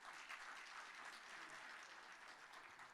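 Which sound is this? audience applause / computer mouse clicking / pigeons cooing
audience applause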